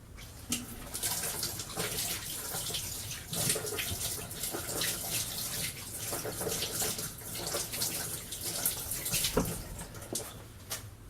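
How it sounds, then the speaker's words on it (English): Water runs from a kitchen tap while someone washes their hands, making a continuous soft splashing hiss with small irregular spatters. It is fairly quiet and close, with no talking. "so just gonna wash my hands"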